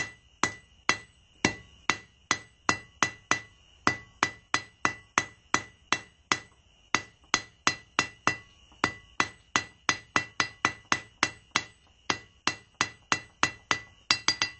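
A blacksmith hammers the taper of a forged steel fire poker on the anvil with a steady run of sharp, ringing metallic blows, about three per second, each with a bright clink and short decay, close and without talk.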